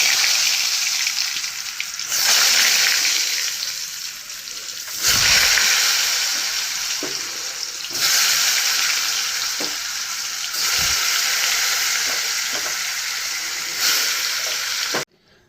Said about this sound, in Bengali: চলো আলুগুলা ভেজে নিই